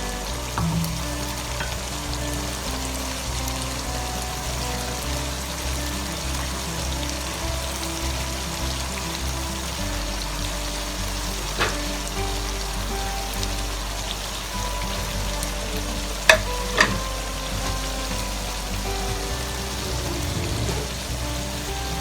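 Keema kebabs fry in a thick masala in a karahi, giving a dense, steady sizzling hiss throughout, broken by a couple of sharp clicks and taps from the utensil near the end.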